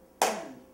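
A single crisp hand clap, close and clear, with a short ringing decay in a quiet room.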